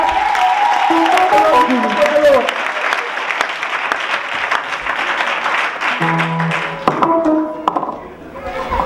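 A church congregation applauding loudly and steadily throughout, with voices and cheering mixed in and brief musical tones near the end.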